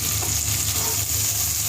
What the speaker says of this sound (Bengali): পেঁয়াজগুলো হালকা একটু ভেজে নেব নরম হওয়া পর্যন্ত।